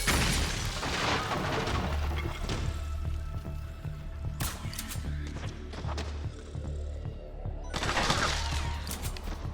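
Combat in the stealth action game Metal Gear Solid 4: Guns of the Patriots, with loud bursts of automatic gunfire and booming impacts in clusters and a low rumbling bed between them.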